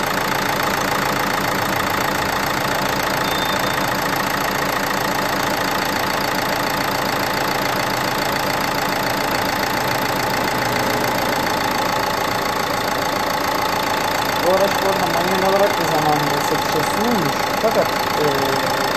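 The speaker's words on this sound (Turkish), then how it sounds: "Bu motor sesiyle de sizleri" A Renault Fluence engine idles steadily in a flat, unbroken hum from start to finish, with a faint whine on top. Near the end a person briefly speaks over it.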